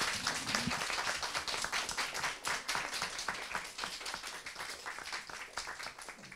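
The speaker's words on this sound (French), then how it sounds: "on peut les applaudir" A conference audience at a talk on military innovation applauds the speakers, a quiet but dense patter of many hands clapping that gradually thins toward the end.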